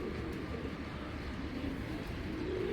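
Soft cooing from a female Giribaz pigeon, low and continuous, against a steady background hum with no talking.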